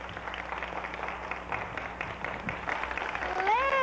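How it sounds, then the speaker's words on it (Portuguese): Audience on a Sunday children's TV show applauds a small school group of kids, a moderate ongoing patter of clapping with a voice rising at the end. "Vamos aplaudir com muito carinho, com muito amor, esse grupinho"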